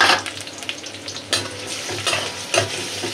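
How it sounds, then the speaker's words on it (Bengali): Shrimp frying with onions in a pan give a steady close sizzle, broken by several sharp scraping stirs and clinks of a spatula. "চিংড়ি মাছটি পেঁয়াজের সাথে ভাজা ভাজা করে নেবো"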